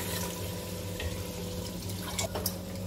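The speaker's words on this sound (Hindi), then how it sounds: "अब मैं यखनी डालने लगी हूँ।" Mutton stock (yakhni) pours steadily onto soaked rice in a cooking pot, a continuous close splashing and gurgling of liquid with a few small clinks.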